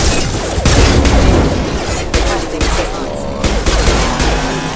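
Sustained gunfire and blasts from a Mass Effect 2 combat fight, dense volleys with booming impacts running almost continuously at close range, loud throughout with faint voices mixed under the shooting.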